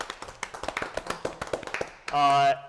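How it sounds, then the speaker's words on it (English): A brief spatter of clapping from a small group at a council meeting, quick and uneven, cut off by a sustained tonal hum at the end. "Let's give her a round of applause"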